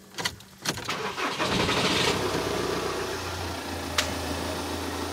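A car engine cranks with a few sharp clicks, catches and settles into a steady close idle after an ELV steering-lock fault is cleared, with a brief click near the end.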